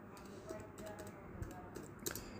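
Soft, quick keystrokes tap on a computer keyboard as HTML code is typed. The clicks are faint and irregular over low background hum.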